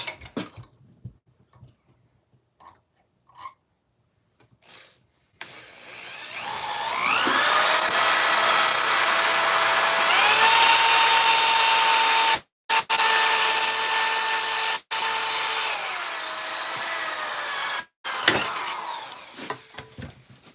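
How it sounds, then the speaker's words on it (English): A power drill whines steadily through armour metal for SCA combat armour for about fifteen seconds, its pitch dipping and rising under load as the bit dulls, with brief pauses and faint clicks before it starts. "Now I'll drill it."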